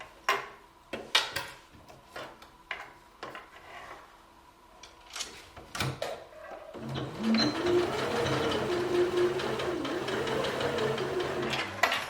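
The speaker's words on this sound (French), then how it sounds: "Et voilà, on est parti à la machine à coudre." Sewing machine stitching the side seam of a long maternity skirt, a few clicks and handling knocks first, then a close, continuous mechanical whir with rhythmic needle chatter.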